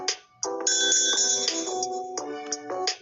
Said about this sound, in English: The bell jingles, getting the girls' attention.